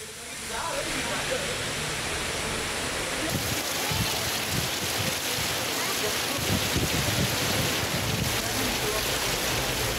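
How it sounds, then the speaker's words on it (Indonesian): A heavy storm in Maros, South Sulawesi, brings rain with gravel-sized hail and strong wind, heard as a dense, steady roar of water and gusts close by that barely changes in loudness. "Hujan deras disertai angin kencang dan petir melanda seluruh wilayah di Kabupaten Maros, Sulawesi Selatan."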